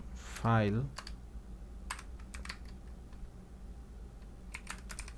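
Keys on a computer keyboard tapped in short scattered bursts while code for an Android file explorer app is written, light close clicks over quiet room tone, with a brief voice sound at the start.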